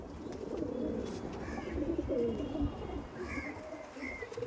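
Punjabi Malbai pigeons coo softly and repeatedly nearby, low throaty calls rising and falling against a quiet outdoor background with faint chirps from other birds.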